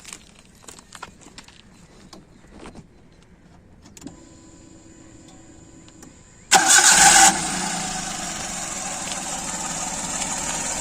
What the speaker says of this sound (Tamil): வாங்க இந்த வண்டி நான் இப்போ உங்களுக்கு ஸ்டார்ட் பண்ணி காமிக்கிறேன்.